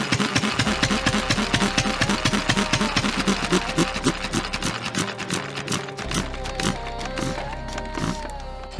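A hit and miss engine runs alone with a steady, loud stream of rhythmic thumping firing pulses, close by, a low continuous hum underneath and the beat briefly faltering partway through.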